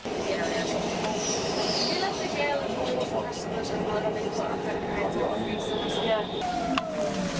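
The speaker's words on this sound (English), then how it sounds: "You have trains leaving there underground, then more trains in the middle," Trains roll through Berlin's main train station, a steady loud rumble of rail traffic with wheel clatter and faint high squeals over the whole stretch, while people talk in the background.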